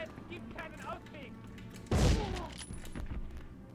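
A single loud shotgun blast goes off in the Medal of Honor video game, a sharp broadband crack with a brief decaying tail. Game chatter and a voice surround it.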